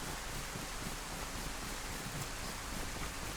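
Rain falls in the survival video game DayZ as a soft, steady patter and hiss that stays faint and even throughout, with no speech.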